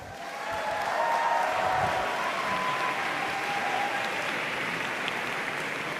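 A graduating class and audience applaud together at a university convocation ceremony, a sustained, dense clapping that swells after the first second and stays steady in a large hall.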